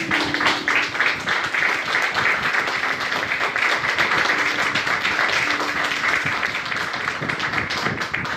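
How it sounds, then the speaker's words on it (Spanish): Church congregation applauding: dense, continuous clapping from a crowd filling the room, steady and fairly loud, with a faint hum of voices beneath. "Denle un aplauso al Señor."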